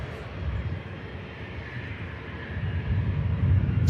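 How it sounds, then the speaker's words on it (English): Airliner engines spooling up at Manchester Airport produce a broad, steady roar that slowly grows louder and deeper across the clip, heard from some distance and with no talking. "spooling the engines up."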